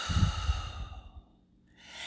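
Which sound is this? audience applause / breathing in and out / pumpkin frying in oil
breathing in and out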